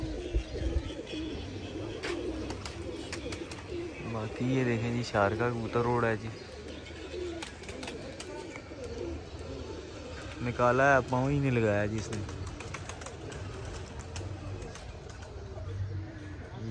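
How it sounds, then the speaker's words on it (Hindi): Pigeons cooing at a pigeon club, with young birds present. Soft rolling coos come in short bursts, while someone talks over them throughout. "ये बच्चा बैठ गया, दोनों बच्चे आ गए"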